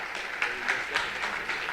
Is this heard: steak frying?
no